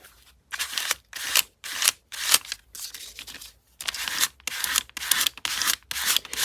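Scissors snip through paper or fabric in repeated bursts, roughly a dozen crisp close-up cuts in an uneven rhythm with short pauses between strokes, no voices.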